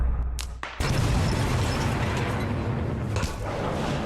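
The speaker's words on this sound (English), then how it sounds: "A power line spanning 3 kilometers over the ocean explodes and plummets into the water." A controlled detonation severs an aging three-kilometre power line over the ocean. After a couple of sharp cracks, a loud, sustained booming roar follows and rumbles on for several seconds, broad and heavy.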